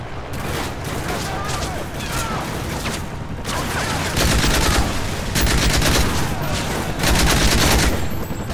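Sustained gunfire in Call of Duty MW3 during a European siege battle, dense bursts of shots that grow louder and heavier toward the end, with voices talking over the fighting.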